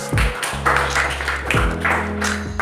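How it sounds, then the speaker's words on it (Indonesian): Students in a classroom clap for a classmate, a steady burst of hand claps with tonal hum and voices underneath, loud and close throughout. "Tepuk tangan untuk dia"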